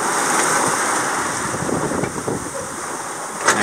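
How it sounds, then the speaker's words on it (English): Choppy little ocean waves where the Amazon River current runs out into the sea with the ebbing tide, a steady loud wash of surf and wind rushing past a boat, without voices. "it was like a leaping and dancing of little waves."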